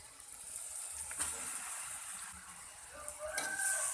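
Grated coconut frying in a pan with browned spices, giving a continuous soft sizzle and hiss throughout, with small crackling bursts here and there.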